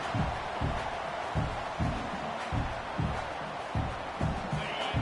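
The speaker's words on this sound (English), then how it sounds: "wow, listen to this crowd noise. This stadium is vibrating." A steady, dense roar of a large college football stadium crowd in the video game College Football 26 fills the whole stretch, with rhythmic low thumps pulsing beneath it like stomping or chanting.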